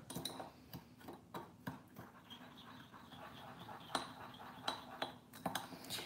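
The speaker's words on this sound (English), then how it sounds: "Okay, and just give this a nice stir." A spoon stirs cake batter with cornstarch in a bowl, quiet scattered clinks and taps against the bowl at an uneven pace, faint and close.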